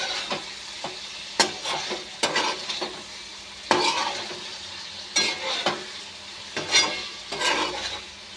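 Koduchikudu fry being stirred in a pan with salt, a utensil scraping and tossing the food in repeated strokes over a soft sizzle, close and fairly loud with no one talking.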